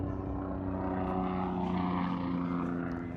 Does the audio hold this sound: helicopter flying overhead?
yes